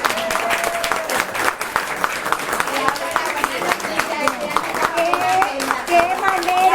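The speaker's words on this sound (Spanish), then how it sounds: "yo quisiera como darle un aplauso a doña Virginia." A group claps and applauds enthusiastically at a book discussion gathering, dense rapid clapping sustained throughout, with voices cheering and talking over it.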